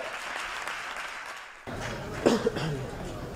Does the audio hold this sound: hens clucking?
no